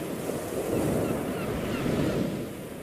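Ocean surf rolling onto the beach at La Playa, a steady broadband wash with gentle swells, heard alone with some wind rumble on the microphone.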